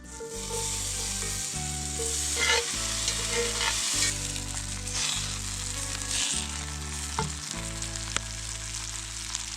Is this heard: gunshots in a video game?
no